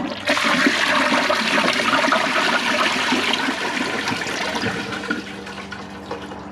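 A 2004 Eljer Patriot toilet flushes loudly and close up, a rushing surge of water that swirls steadily for several seconds before slowly fading toward a quieter trickle at the end.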